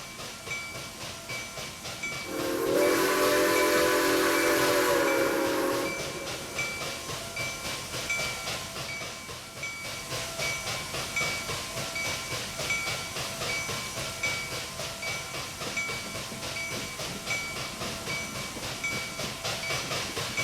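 A steam locomotive in the railway video game Transport Fever 2 lets out a loud, drawn whistle for a few seconds, set against a steady rhythmic chuffing and clatter of rolling cars that carries on with no talk.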